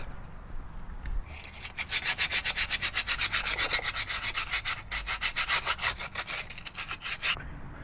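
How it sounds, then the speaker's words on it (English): Brake pads from a Ford F250 being sanded by hand, a close, rhythmic rasping scrub in quick back-and-forth strokes that starts after a few quiet seconds and continues steadily to the end. "So I'm going to sand a little bit the pads."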